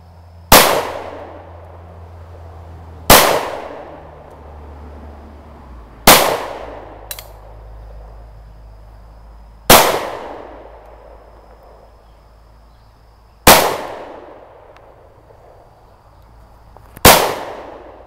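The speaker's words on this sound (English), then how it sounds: "First shot, Sccy CPX-2," Six loud gunshots from a Sccy CPX-2 pistol fired at targets, sharp cracks spaced a few seconds apart, each with a decaying echo, close and alone without talk.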